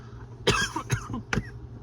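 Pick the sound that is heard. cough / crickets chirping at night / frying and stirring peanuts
cough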